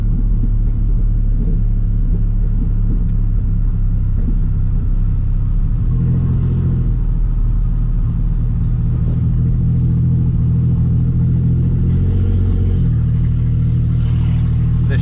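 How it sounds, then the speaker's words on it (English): A 2004 Ford Explorer needing a tune-up runs while driving, a steady loud low engine drone and road rumble with slight rises in pitch, no talking. "The motor needs a tune-up."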